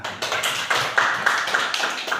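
Students in a high school classroom give a short round of clapping, a brief steady patter that stays moderately loud for about two seconds with no talking.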